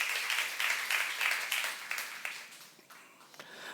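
Applause from a church youth congregation, fairly quiet and distant, with steady clapping that thins and fades toward the end.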